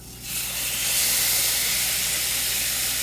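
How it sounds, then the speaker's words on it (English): Tofu dropped into a hot non-stick pan breaks into a loud, steady sizzle and hiss that swells within the first second and holds, close and continuous with no talking. "I'm going to drop the tofu into the pan and fry it till it becomes golden brown"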